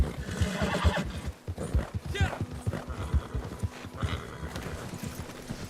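A horse near a stable clip-clops along in an uneven walking rhythm and lets out a loud whinny, with the hoofbeats close and continuing throughout.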